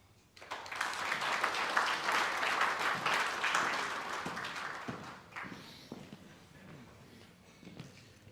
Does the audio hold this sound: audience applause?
yes